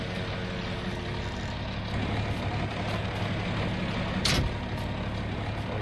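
An old open cab John Deere tractor in Farming Simulator idles with a steady, low, droning engine note, joined by a brief hiss partway through, with no voices.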